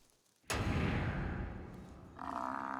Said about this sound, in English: The naive youngsters have already picked up the irresistible sound of a lion hunt.